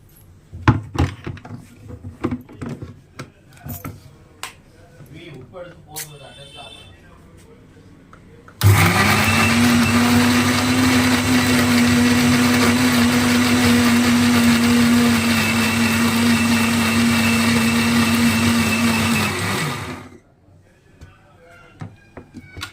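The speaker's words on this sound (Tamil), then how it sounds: "நான் உங்களுக்கு அரைச்சி காட்டுறேன் பாருங்கள் வாங்க அரைக்கலாம்" A mixer grinder grinding onions into a paste for chana masala gravy, starting with a sudden loud roar that holds steady for about eleven seconds before it cuts off, after a stretch of kitchen handling noises.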